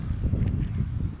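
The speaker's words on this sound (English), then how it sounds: "I do apologize for any wind if it's hard to hear me." Low, blustery rumble of wind buffeting the microphone outdoors in Wabash, constant throughout with gusty fluctuations and no clear voice.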